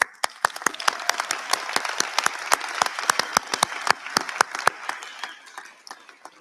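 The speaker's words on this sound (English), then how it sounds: "We applaud you." Applause at a university Ph.D. and Ed.D. hooding graduation ceremony, heard as a thinner scatter of distinct, sharp hand claps with uneven rhythm that gradually dwindles toward the end.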